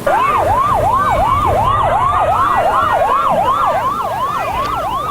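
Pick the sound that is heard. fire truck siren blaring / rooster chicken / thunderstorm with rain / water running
fire truck siren blaring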